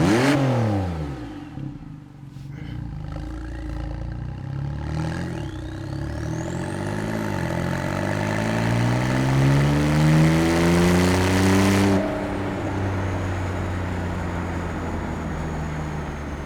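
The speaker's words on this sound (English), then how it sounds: "I've opened up the sports exhaust valves, and let me just press that accelerator gently." A Porsche 911 991.2 Carrera 4S Targa with its 3.0-litre twin-turbo flat-six and sports exhaust valves open rises from idle into a long, deep rev, then drops back to a low idle, loud and close.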